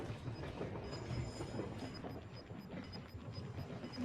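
A train rolling past in the battle royale game Warzone: a continuous rumbling rail clatter with a thin high metallic squeal riding on top, fairly quiet and steady for the whole stretch.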